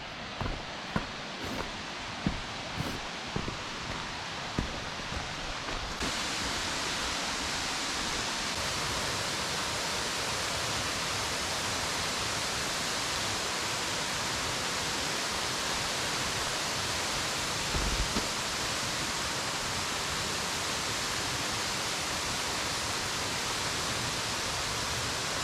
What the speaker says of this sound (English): Perfect day to come out and look at this waterfall.